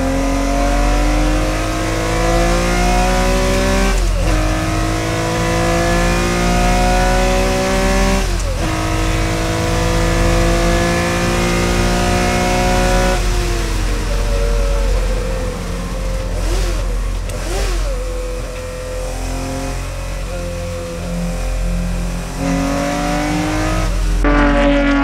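A Porsche race car with a stiffened chassis laps the Silverstone circuit, its engine loud and close, revving up through gears in repeated rising sweeps with sharp shifts, a brief lift and re-acceleration midway, with no talking.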